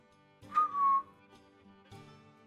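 A person whistles to call a dog during a tabletop role-playing session: one rising-then-falling whistle, fairly loud and close, followed by quieter background noise and a faint thump.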